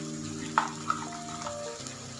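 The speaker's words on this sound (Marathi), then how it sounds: "परतून घ्यायचंय आपलं वाटण. मस्त असं तेल सुटलेलं आहे." Ground masala paste fries in oil with a steady soft sizzle, punctuated by a sharp tap of a utensil early on and a lighter click soon after, under a low background hum; no talk.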